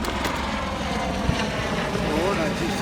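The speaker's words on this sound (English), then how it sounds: "here comes the airback helicopter" An air ambulance helicopter passes overhead, a steady loud rotor and engine drone filling the whole short stretch with faint voices in the background.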